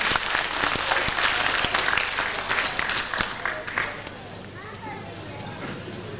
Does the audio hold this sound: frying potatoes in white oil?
no